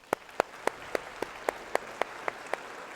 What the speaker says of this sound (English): Let's give our sponsor, Oregon Ag in the Classroom, a huge round of applause.